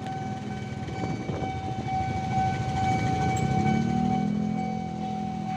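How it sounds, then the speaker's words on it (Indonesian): Airport rail link train passing Manggarai station, Jakarta, its steady rumbling roll building as it nears, with a sustained tonal horn or whistle held over the clatter of wheels. "Kayaknya kereta bagus nih, teman-teman mau lewat."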